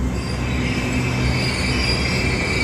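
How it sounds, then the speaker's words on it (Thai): SRT Red Line commuter train pulling into Wat Samian station in Bangkok, a steady loud rumble of wheels on rail with sustained high squeal throughout, no voices. "ตอนนี้เราอยู่ที่วัดเสมียน ซึ่งรถไฟนั้นก็มาจอดแล้วนะครับ"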